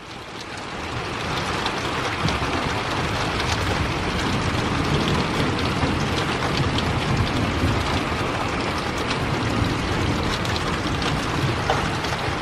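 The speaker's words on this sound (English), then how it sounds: "I think that's just rain." Steady rain pours down outdoors near a road, a constant broadband hiss that holds evenly close by for the whole stretch, with no voices.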